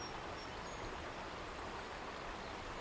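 Flowing water of the Savage River, a Maryland fishing stream near the West Virginia border, rushing in a steady, dense broadband wash with no pauses, close and even throughout.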